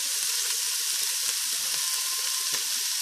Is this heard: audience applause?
no